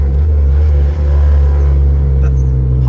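Honda car engine revving, a loud, close, steady low rumble that holds throughout with a brief dip partway, alone with no talk.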